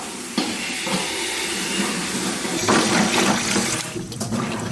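Running tap water splashes steadily into a kitchen sink as chili peppers, garlic, ginger and lemon are rinsed under it, a continuous rushing hiss that briefly swells louder partway through, with no talking.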